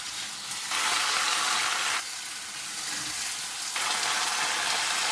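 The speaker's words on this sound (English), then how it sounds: "And that maintains that sizzling." Chicken stir-frying in a hot pan gives a loud, continuous sizzle with bursts that swell and fall back as pieces are pushed around, with no voices.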